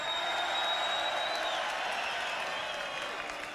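A large crowd in a 5,000-seat arena at a boxing match cheers and applauds in a steady, loud roar that holds throughout, with a whistle rising over the noise.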